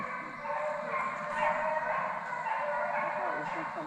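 Hunting dogs bay during a South Carolina deer dog drive, a continuous overlapping chorus of yips and howls carrying from a distance through the woods, steady and moderately loud throughout.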